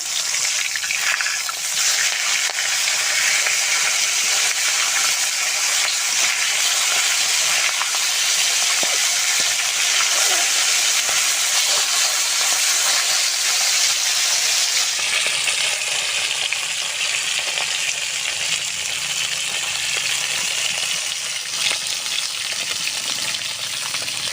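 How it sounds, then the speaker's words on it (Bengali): Large fish heads sizzle and hiss steadily in hot oil, a dense continuous frying sound close by with no talking. "মাছের মুড়োগুলো উল্টে ভেজে নেব"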